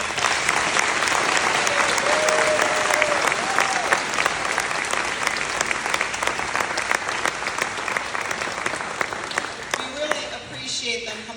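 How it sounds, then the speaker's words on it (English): At a community orchestra spring concert, the audience applauds the seniors in a sustained, dense round of clapping, with people talking over it toward the end. "Give a round of applause."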